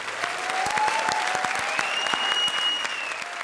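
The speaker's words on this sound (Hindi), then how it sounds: "जोरदार तालियां हो जाएं।" A studio audience at a comedy show applauds steadily, a full wash of clapping with a few high whistles or cheers rising through it and no talk.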